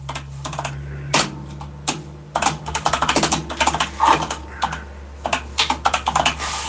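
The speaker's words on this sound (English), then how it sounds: "Sorry, typing. I can't type and talk." Computer keyboard typing in rapid, irregular bursts of close clicking keystrokes with short pauses between, over a low steady hum, no speech.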